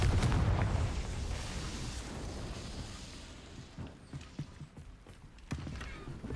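A Confringo spell explodes in Hogwarts Legacy, opening with a loud, deep blast that fades into a long rumbling decay, followed by scattered thuds and creaks.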